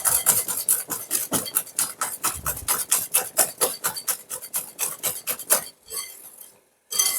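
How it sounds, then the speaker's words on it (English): A whisk beating eggs into almond cake batter in a bowl: fast, steady scraping strokes with a bright metallic rasp, close and continuous, stopping briefly just before the end. "I use the whisk and I'm kind of doing like this. What I'm doing, I'm whisking air in it."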